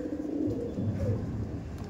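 An Andhra Fulshira pigeon coos in low, soft, repeated murmurs, heard close up with no talking over it.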